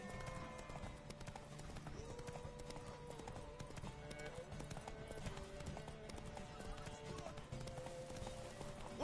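Horse hooves clip-clop steadily in a video game, a continuous rhythmic trot under music and ambient sound, fairly quiet overall.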